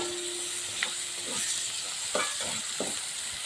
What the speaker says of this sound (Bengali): এই ছেঁচে রাখা আদাটা দিয়ে আবার ওই নাড়াচাড়া